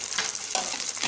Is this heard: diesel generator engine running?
no